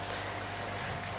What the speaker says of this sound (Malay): Yang anda dengar itu adalah bunyi air jatuh.